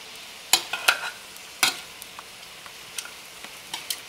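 Cabbage sizzling in melted butter in a pan as it is stirred and turned, with soft frying crackle and a few sharp scraping clicks and taps of a utensil, fairly close and with no talking.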